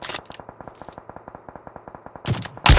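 Automatic gunfire in PUBG Mobile rings out as a fast, even string of about two dozen sharp shots, followed by a couple of louder, harsher bursts at the end.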